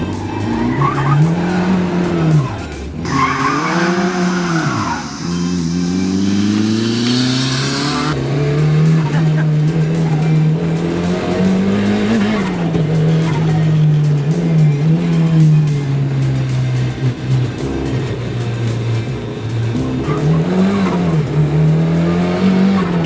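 A Premier 118NE Turbo restomod, rear-wheel drive, is driven hard around a racetrack, its engine roaring loud and close with rising and falling revs while the tires squeal through the corners.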